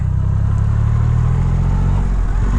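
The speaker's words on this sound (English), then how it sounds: "The burble on the exhaust is fantastic." A 2500 cc Triumph Rocket 3 R motorcycle gives a continuous deep, close exhaust burble at steady revs, loud and unbroken throughout.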